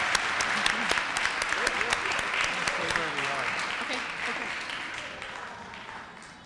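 Audience at a county spelling bee applauds the spellers, a dense wash of clapping that slowly fades, with a voice speaking over it.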